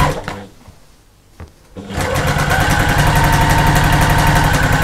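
A sewing machine stitching a seam on a fabric expanding bag: a few hesitant starts, then a fast, steady mechanical whirr with rapid even ticking, loud and close, running to the end.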